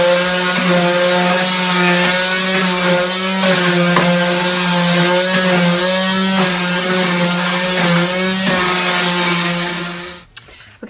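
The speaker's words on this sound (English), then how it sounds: "take my palm sander and sand around inside the holes" A palm sander works inside the holes of a wooden medieval pillory Halloween prop, giving a loud, steady, close buzzing drone for about ten seconds before cutting off abruptly.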